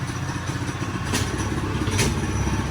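Trailmaster Mid XRX minibike engine running hard on a top speed run outdoors, a steady buzzing motor with rattly clatter throughout, close and fairly loud, with no talking.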